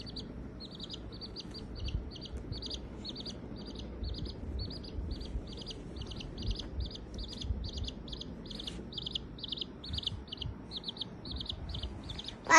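Baby chicks chirping in a steady stream of rapid, high peeps, fairly close and continuous over a low background rumble, with no talking.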